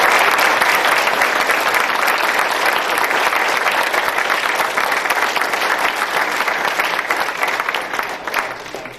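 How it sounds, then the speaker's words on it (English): Loud, sustained audience applause at the close of a talk about Google's early days, dense crowd clapping that holds for nine seconds and gradually thins toward the end. "could we have a round of applause?"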